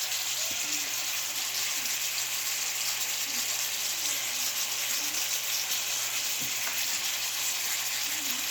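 A ribeye steak fries in a pan with a steady, close hiss of sizzling fat that runs unbroken under a faint background hum, with a couple of small clicks from a fork against the pan.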